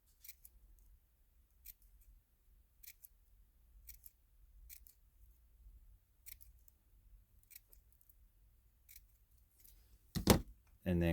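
Scissors make a series of quick, crisp snips into a paper leaf shape, spaced about a second apart in a quiet room, then a louder clatter and rustle at the end.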